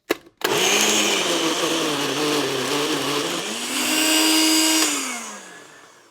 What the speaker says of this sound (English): all we're going to do is just blend this